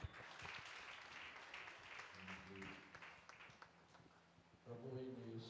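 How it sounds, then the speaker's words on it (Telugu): A church congregation at a pastors' conference claps in a dense, continuous burst, fairly distant and soft, while sustained music tones enter partway through. "గట్టిగా చప్పట్లు కొడదాం"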